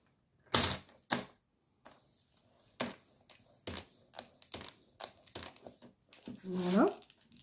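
Card paper is folded in a series of separate crisp creases and rustles with quiet gaps between them, ending in a longer crinkle as a voice speaks.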